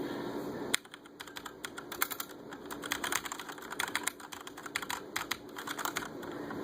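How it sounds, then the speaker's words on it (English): Rapid, clacky keystrokes on a Corsair Vengeance K70 mechanical keyboard, irregular bursts of typing close by with brief pauses, no voices. "here's the kind of a sound test of the actual keyboard."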